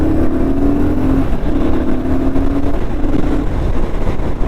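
BSA Goldstar 650 motorcycle accelerating at full throttle, a loud, rough engine drone with a steady rising hum, close and continuous.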